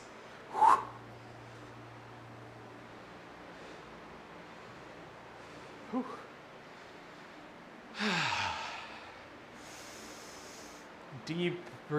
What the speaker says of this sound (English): Deep breathing in between sets.